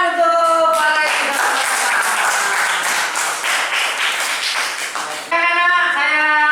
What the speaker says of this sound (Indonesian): Tepuk tangan untuk Pak Leni.